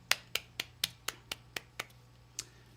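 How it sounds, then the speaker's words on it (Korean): A small church congregation at an online worship service applauds with sparse, sharp individual claps, about nine crisp slaps spaced unevenly in a quiet room, the last one after a short pause. "하나님께 영광의 박수 올려드리겠습니다."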